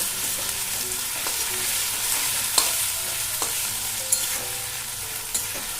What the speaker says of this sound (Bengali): এরপর আমি এইগুলো খুব ভালোভাবে ভেজে নেব।